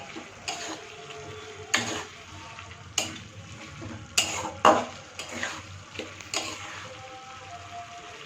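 Thankuni leaf dish being stirred in a pan with raw mustard oil, a utensil scraping and clanking against the pan in repeated strokes over a steady soft sizzle, fairly close, with no voices.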